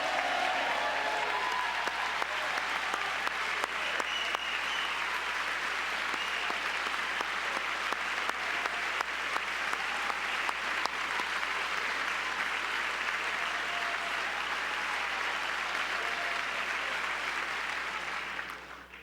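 A large audience at the 2025 State of the Union address applauds steadily and loudly for almost twenty seconds. The sound is a dense, continuous wash of clapping that fades only at the very end.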